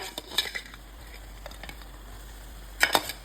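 Chicken going into masala spiced with pepper, garam masala and curry leaves for chicken biryani: soft sizzle with a couple of clattering clinks of pan and utensil, the loudest near the end.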